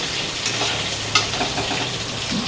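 Boiled potatoes fry and sizzle steadily in a pan while being stirred, with a sharp scrape of the spoon partway through, close and without talk.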